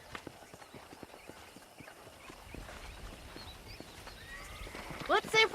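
Horse hooves clip-clop steadily in the Red Dead Redemption video game, a rhythmic trot of moderate loudness at a ranch where horses are broken in, under spoken dialogue, with a few sharper knocks near the end.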